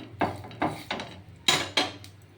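Metal spatula scraping and knocking against a pan while cooking Bengali patishapta with coconut, five sharp clattering strokes in an uneven rhythm, close and clear with no talk.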